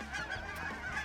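Canada geese flying over Saskatchewan pea fields during a goose hunt honk over and over, several quick nasal calls that overlap one another, fairly close and loud.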